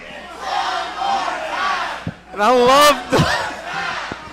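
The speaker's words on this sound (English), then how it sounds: "I love this bloodthirsty ProSouth faithful crowd." A wrestling event crowd of ProSouth Wrestling fans roars and yells throughout, with a sharp clap and a swelling, piercing cheer near the middle, then settling back to a rowdy din.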